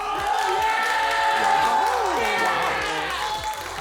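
Exeter fans in a crowd at an esports grand finals showmatch cheer and whoop loudly and continuously, voices overlapping in an excited, sustained roar.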